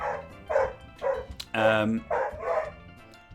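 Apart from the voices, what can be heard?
dog barking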